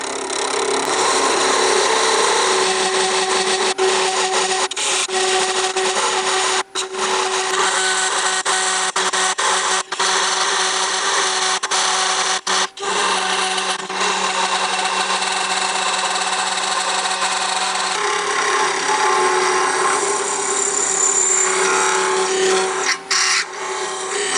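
A wood lathe turns a bowl at about 2000 RPM, giving a loud, continuous motor hum with steady tonal whine and scraping tool contact, broken by a few brief dips.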